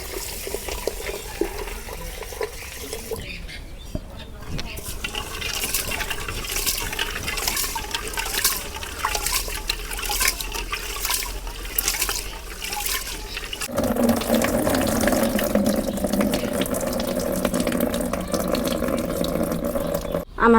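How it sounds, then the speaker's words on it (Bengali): Rice, red lentils and soybeans are washed together in water, with sloshing and swirling under a running tap that carries on steadily and grows louder and fuller partway through, close by, with no voice. "এখন আমি চাল ধুয়ে নেব"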